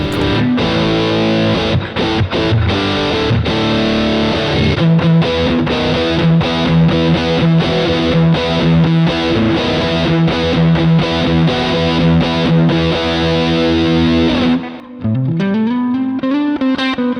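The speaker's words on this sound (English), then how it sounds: "you're straight back into sort of distortion overdrive territory" Electric guitar through a home-built distortion overdrive pedal, playing loud, saturated chords and riffs continuously, ending with a sliding bent note.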